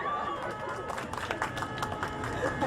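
Applause from a radio studio team, a crowd of hands clapping in a dense, steady patter at moderate volume for a few seconds, with voices murmuring underneath.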